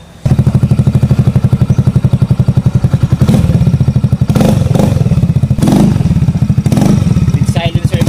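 Yamaha Fazzio 125 scooter fitted with a tri-oval chrome muffler and silencer, idling close up with a loud, steady throbbing pulse, then several quick revs that rise and fall back to idle.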